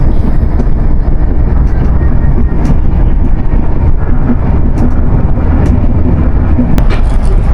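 Loud, steady low rumble of a train rolling along rails in Turkey, heard from aboard, with faint clicks and rattles throughout and no clear talk.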